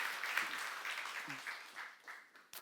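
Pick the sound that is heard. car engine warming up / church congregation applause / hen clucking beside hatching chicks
church congregation applause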